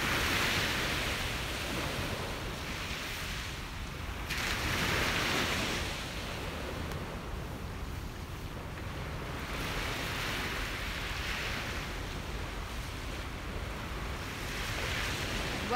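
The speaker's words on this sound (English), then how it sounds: "Well, the waves never disappoint, do they?" Ocean waves on a beach, a continuous roar of surf with slow swells and breaks rising and falling every few seconds, with some wind noise and no talk.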